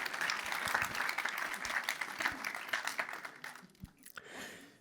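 Audience at a French customer-satisfaction awards ceremony applauds the winners, with dense, steady clapping that gradually thins out and fades near the end.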